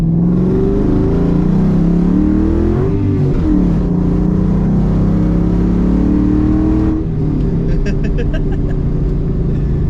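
Coyote-swapped car with a 4.6 battery setup, engine revving and pulling hard while driving, a loud continuous drone rising and falling in pitch, with voices talking inside the cabin over it.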